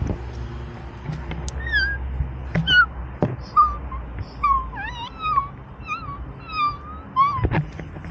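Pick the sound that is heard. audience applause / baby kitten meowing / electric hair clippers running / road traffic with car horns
baby kitten meowing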